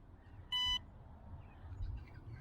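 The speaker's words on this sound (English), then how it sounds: "Now it's going to continuously beep unless I turn the drone off" A short electronic beep from an AOSENMA CG028 GPS brushless drone sitting on its landing pad, a single clear tone burst with faint background noise around it.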